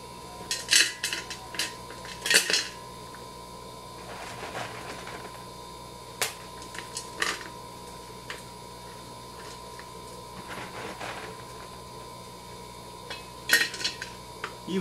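Chunks of Dragonstone rock set into the corners of a decorative aquarium, sparse hard clacks and clinks of stone on stone and glass, quiet and scattered over a faint steady hum.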